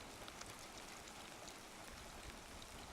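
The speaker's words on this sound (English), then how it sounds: "it rains." Rain falls in Namibia as a faint, even hiss of drops that stays constant and distant throughout, with no distinct individual hits or voices.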